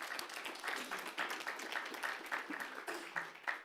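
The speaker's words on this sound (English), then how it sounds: "Would you guys give her a round of applause?" Quiet applause from a crowd at a school board meeting, a steady patter of many hands clapping at a distance, continuing throughout without any voices.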